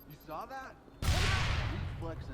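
A bomb blast in the Watch Dogs video game bursts in loud and broadband, then rumbles and crackles for over a second after a voice, with more talk resuming faintly near the end.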